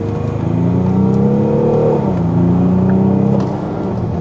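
A nice car, bought after being dumped on a roadside in France, revs up as the driver floors the accelerator, its steady engine rumble rising in pitch over about four seconds with a brief dip midway.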